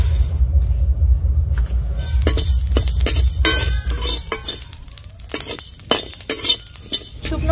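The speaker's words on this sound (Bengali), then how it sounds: "তার জন্য আমি 1 চামচ গোটা ধনে, 1 চামচ গোটা জিরে নিয়েছি, একটু ভেজে নিচ্ছি।" Whole coriander and cumin seeds dry-roast in a hot empty pan for a spiced aloo paratha masala, giving a steady low rumble under repeated sharp clinks and scrapes of a spoon stirring against the pan.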